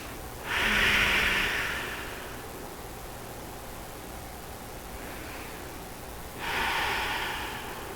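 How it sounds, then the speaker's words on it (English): Two deep breaths during chair yoga, each a long, close, airy inhale or exhale rising, holding, then fading, with a quiet pause between them. "just take some deep breaths there."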